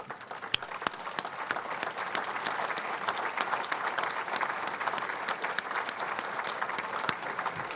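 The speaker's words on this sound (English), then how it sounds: "And I think we should stand up and give them a round of applause." A banquet audience at a football team dinner stands and applauds. The clapping is dense and steady throughout, with sharp individual claps standing out against the crowd.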